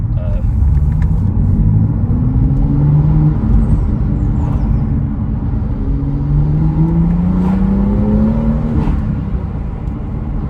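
A 2016 BMW M2 3.0 manual sports car engine revs up and falls back twice, rising pitch sweeping upward each time over a deep, loud, close rumble, with small exhaust pops after the revs.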